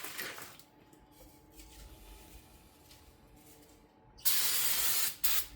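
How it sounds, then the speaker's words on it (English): Brake cleaner sprays onto the brake dust covers of a third-generation Camaro IROC, with a short hiss at the start and then a loud sustained spray burst near the end, separated by a brief stop. "spray these dust covers and everything with your brake clean before you start scraping"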